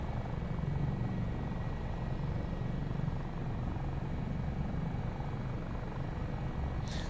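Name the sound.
AS365 N2 Dauphin helicopter flying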